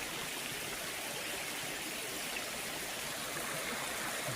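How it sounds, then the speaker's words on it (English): Small waterfalls in central Elmore County spill into a creek, making a steady, even rushing and splashing that fills the whole clip with no voices. "These little waterfalls coming down into the creek."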